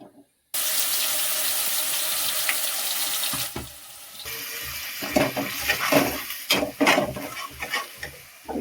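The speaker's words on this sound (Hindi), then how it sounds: "अब इसको डाल देते हैं ऑयल में।" A masala paste of ground onion, tomato, garlic and chilli hits hot oil with a sudden loud sizzle, which settles into a steady hiss and is followed by irregular stirring and spattering bursts.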